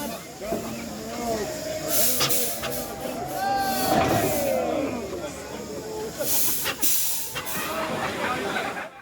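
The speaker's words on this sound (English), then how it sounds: "It's going to steam." A steamroller vents steam, producing a loud broad hiss that swells and fades near the middle, with crowd chatter and voices nearby throughout.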